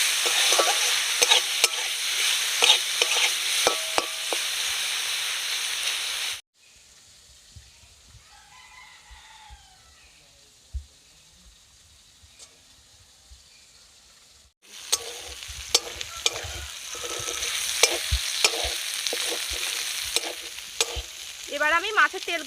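Fish heads rubbed with salt and turmeric frying with half-browned onions in a pan, loud close sizzling and stirring that drops out to near silence midway, then returns; a rooster crows faintly in the background.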